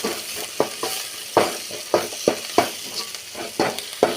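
A small spoon stirs egg podimas frying in a pan, making rhythmic close scrapes and taps on the metal every half second or so over a continuous soft sizzle.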